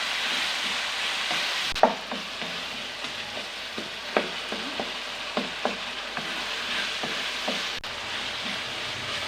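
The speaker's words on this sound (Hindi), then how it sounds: "मसाला हमारा भून चुका है।" Masala seasoned with salt and chili fries in a pan for baingan bhurta, a steady soft sizzle broken by occasional scraping stirs and light clinks of a spoon against the pan.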